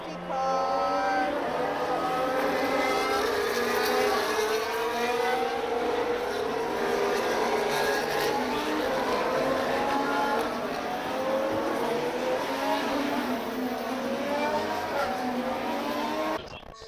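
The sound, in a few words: race cars on track at Austin Grand Prix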